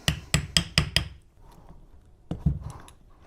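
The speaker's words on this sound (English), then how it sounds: "I'm just prying around the edges, try and get in there and get them up." A metal tool clacks against the bolts and cover of a BMW E36 M3 S50B30 Vanos unit, first as five quick sharp knocks, then after a pause two more taps, close up.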